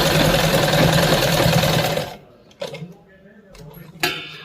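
A sewing machine stitching pleats on a salwar, running close and steady for about two seconds before stopping, followed by faint clicks and handling noises.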